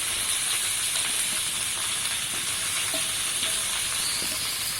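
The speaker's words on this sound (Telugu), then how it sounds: "సో అలాగే పెద్దది వేసుకొని బాగా ఫ్రై చేసేసుకుందాం." Chillies fry in a pan for an egg dum biryani, giving a steady, fairly loud broadband sizzle and hiss that runs unbroken throughout with no voices.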